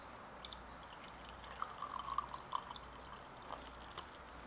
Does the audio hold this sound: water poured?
yes